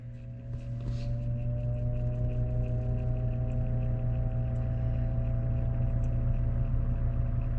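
An old, repeatedly oiled box fan motor winding up slowly, giving a steady low hum whose tones creep upward in pitch as it struggles toward speed, close and continuous with no talking.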